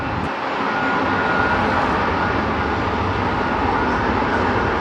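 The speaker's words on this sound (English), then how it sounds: "634 Frontier touching down from Atlanta" A Frontier airliner touches down at DFW, a steady broad jet roar that stays loud and fairly close for a few seconds, with no talk over it.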